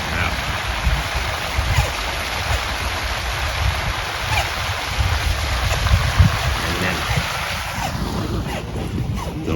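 Handuro 1100W solar water pump gushing water from a shallow sand well, a steady loud splashing rush with wind buffeting the microphone throughout.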